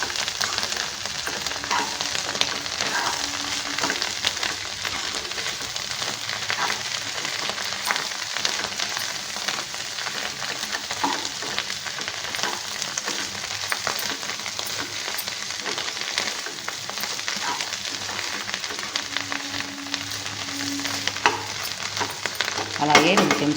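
Cabbage curry cooks in a pan as turmeric is stirred through it, a steady sizzle with a rainlike patter and repeated scraping and stirring sounds running throughout, close up and without speech.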